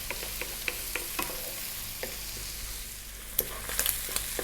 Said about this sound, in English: We're now going to go in with that 1 cup of our prawns or shrimps, our 1 cup of our peas. High heat, 4 minutes,